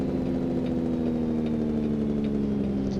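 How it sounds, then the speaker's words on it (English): Truck engine in American Truck Simulator, a steady low rumbling drone with faint periodic clattering bursts, consistent and moderately loud throughout with no talking. "Oh, the Jake brake sounds."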